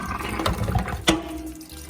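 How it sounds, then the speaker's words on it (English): Tap water gushing steadily onto saltfish in a sink, a close, continuous splashing flow with a brief louder splash partway through. "And get some more water on it."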